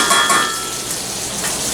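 Butter sizzling in a skillet before beans go in, a soft steady hiss with light crackle, close and fairly loud, holding level for a couple of seconds with no talk over it.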